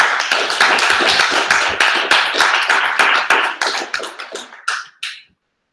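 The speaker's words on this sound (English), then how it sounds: "Round of applause again." A small group gives a round of applause at a civic tech hack night, sharp close handclaps in a steady patter that thins to a few last claps and stops abruptly.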